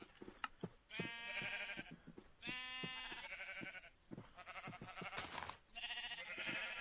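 Sheep in Minecraft bleat in a run of loud, wavering calls, several in a row with short gaps between them, and no talking over them.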